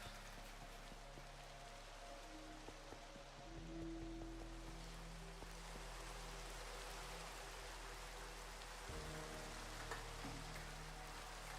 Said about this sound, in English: it will hit, like the particles fall on angles, so they will hit these blocks and still make noise.